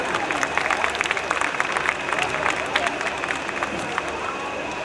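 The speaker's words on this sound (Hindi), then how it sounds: "एक बार जोरदार तालियां माता जी के लिए।" An audience at a Janmashtami celebration gives a 70-year-old lady a round of applause, with dense, steady clapping from a crowd heard fairly close, alongside some voices.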